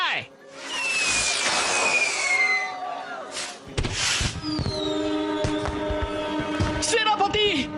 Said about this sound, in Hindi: वार्षिक लालटेन महोत्सव आतिशबाजी का शो आधिकारिक तौर पर शुरू कर दिया जाए।